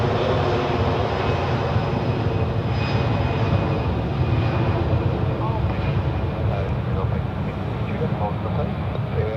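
A Lufthansa Airbus A319 jet at Zurich Airport produces a steady, loud broadband engine roar throughout, a continuous wash of noise heard from nearby with talk partly underneath.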